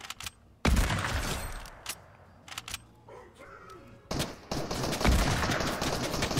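Gunfire in the video game Fortnite: sharp broadband shots crack out in a few separated bursts, loud and close, with quieter gaps between them.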